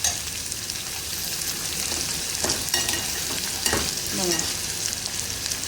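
Onion and wild monsoon greens (ulshi flower buds) cook in a pan, giving a continuous close sizzle with a few scraping stirs and light clinks.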